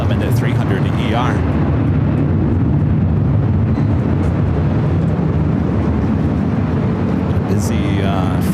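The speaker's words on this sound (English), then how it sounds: "Busy first hour for takeoffs here on the north side." A jet takes off from the north side of LAX with a loud, sustained roaring rumble that holds steady throughout, thick in the low end.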